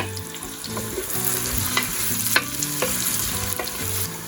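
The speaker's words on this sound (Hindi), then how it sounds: "हम प्याज को इतना फ्राई करेंगे कि इस पे हल्का सा गोल्डन कलर आ जाए" Onions sizzle steadily in a hot pan, frying toward a light golden colour for mutton and taro curry, with occasional sharp clicks of a spatula stirring against the metal.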